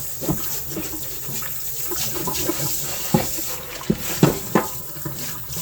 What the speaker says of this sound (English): I just want to give them a quick rinsing off.